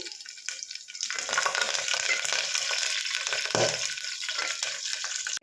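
Mustard seeds and cumin fry in hot oil in a village-style kitchen, a loud steady crackling sizzle that swells after the first second and holds throughout, with no talking.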